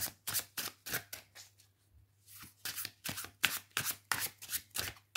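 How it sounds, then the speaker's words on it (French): Rider-Marseille tarot cards shuffled by hand at close range, crisp rapid riffling bursts repeating in quick rhythm with a brief pause midway before the shuffling resumes. "Et on va tirer 2 cartes du Rider Marseille pour vous."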